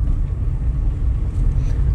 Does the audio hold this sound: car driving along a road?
yes